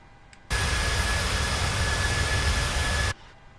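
Jet airliner engines roar in a PMDG flight simulator video game as it takes off: a loud, steady, full-bodied rush that starts abruptly and cuts off just as suddenly after about two and a half seconds.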